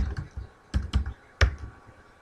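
Keys on a computer keyboard are tapped to enter a short name in embroidery lettering software, a handful of crisp close clicks in an uneven burst, quiet and alone.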